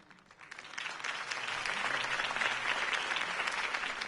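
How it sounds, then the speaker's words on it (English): Crowd applause follows a campaign speech in the Batman Telltale video game, rising from quiet within the first second into a full, sustained wash of clapping that holds steady to the end, with no talking over it. "If only Mr. Wayne, my campaign's largest backer, could have heard that applause"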